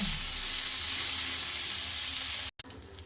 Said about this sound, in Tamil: இப்படி கிடக்கிற நண்டை இப்படி எல்லா பக்கம் தட்டி விட்டால் நம்மளுக்கு நண்டு ரெடி ஆகிடும்